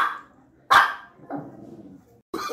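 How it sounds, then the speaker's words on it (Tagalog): A Shih Tzu barks indoors, one sharp close bark followed by a softer growling yip and another bark at the end. "Ito yung isa kong aso, si Nana."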